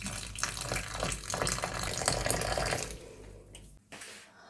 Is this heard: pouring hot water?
yes